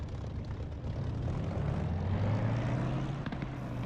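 A propeller aircraft engine throttles up for takeoff in the DCS flight simulator, a loud droning hum whose pitch rises steadily and holds.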